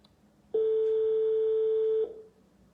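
A single steady telephone tone sounds loud and close for about one and a half seconds, with quiet room background before and after it.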